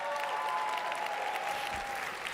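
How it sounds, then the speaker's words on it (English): Audience applause fills a large hall at an awards gala at the Vancouver Convention Centre, a steady, dense wash of clapping with a faint tonal hum underneath, sustained at even loudness throughout. "a big round of applause for our hosts."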